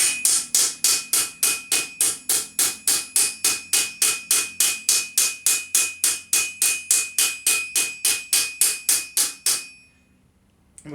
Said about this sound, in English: start to work it straight down onto the anvil